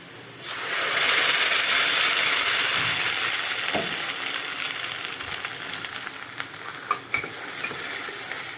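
Chopped tomatoes hitting browned onions in a hot frying pan for a tomato kuzhambu, a loud steady sizzle that swells at the start and then settles, with a few scraping stirs and clinks.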